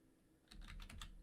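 A command being typed on a computer keyboard, a quick burst of about five close key clicks after a short quiet pause.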